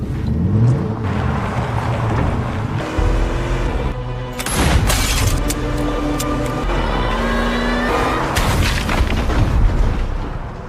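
A car smashes into a sheriff amid loud, dense booming impacts and crunching crashes layered over a constant rumbling background, heavy and close throughout.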